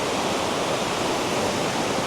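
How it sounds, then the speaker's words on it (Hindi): Khandadhar waterfall in Odisha roars as a loud, steady, broadband rush of falling water, constant and unbroken throughout with no voices. "is that lovely Khandadhar waterfalls"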